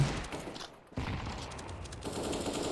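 Rapid automatic gunfire in the video game CS:GO rattles in dense bursts, briefly dropping out before resuming as continuous firing to the end.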